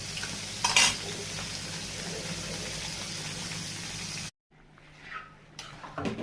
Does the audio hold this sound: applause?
no